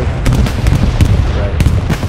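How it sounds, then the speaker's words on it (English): Artillery fire in Hell Let Loose on the Hürtgen Forest map, with several loud, close booming impacts arriving in an uneven rhythm over a heavy low rumble. "Artillery."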